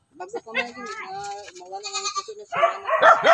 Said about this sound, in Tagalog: Ayan oh, dalawa. Dalawa yung kambing.